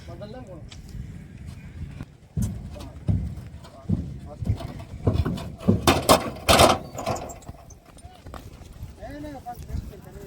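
A racehorse named Raftaar is unloaded before watching spectators, its hooves knocking and clattering on a hard surface in uneven bursts amid voices and background chatter.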